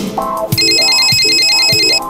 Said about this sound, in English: that phone noise really get irritated